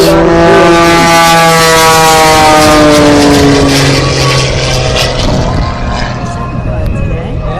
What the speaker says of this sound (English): He's not just warming up his engine.